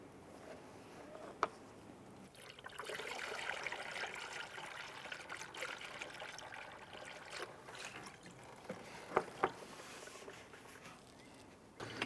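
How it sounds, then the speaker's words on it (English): Coolant trickles out of a bleed port on the cooling system of a 2005–2010 Chrysler 300, a faint, steady watery dribble heard close up, with a few small clicks along the way. "Here we have our coolant coming out."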